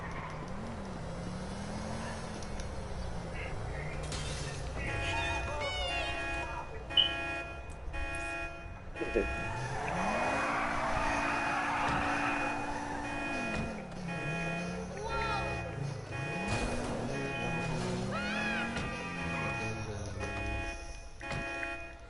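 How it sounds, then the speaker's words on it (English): Several car alarms sound outdoors in a cycling pattern of rising and falling wails and steady tones that repeat over the whole stretch, fairly loud, with some background noise and voices mixed in. "Car alarms again."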